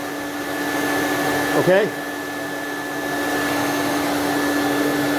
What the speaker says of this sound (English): that vacuum, my Thermax, is really doing the trick. It's sucking the dust right out of the air and putting it in the water. It's a little bit noisy.